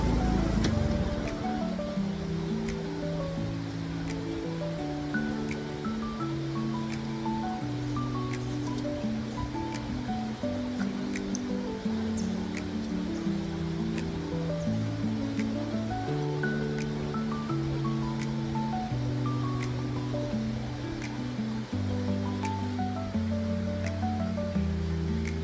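Steady rushing and gurgling of a flowing river at a campsite in Tanay, Rizal, continuous and moderately loud throughout, with no voices.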